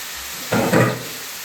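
About 700 g of chicken goes into a pan of sizzling masala for a Bengali chicken kosha, giving a sudden loud burst of frying hiss that swells briefly and then settles back into quiet.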